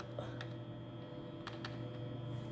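A computer keyboard being typed on, a few quiet, sparse key clicks over a steady low hum in a quiet room.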